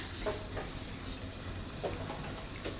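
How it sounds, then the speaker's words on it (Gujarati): Hot oil poured over spices for an amla pickle, with hing among them, gives a soft sizzle and a crackling hiss, fairly quiet, with a few brief stirring or pouring clicks. "તો આમાંથી આપણે તેલ નાખીશું આ મસાલા ઉપર, આ રીતનું ગરમ તેલ."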